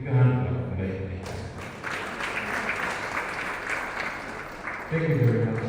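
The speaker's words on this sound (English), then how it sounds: "A big hand clap for that, please." Applause from the audience at a diocesan health assembly in Masaka, a steady wash of clapping that swells in after the opening moments and holds at moderate loudness, with a voice speaking at the start and again at the end.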